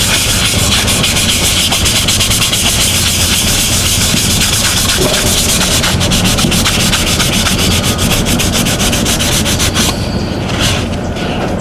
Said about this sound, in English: I'm going to use a dry part of this towel, take off the excess of it.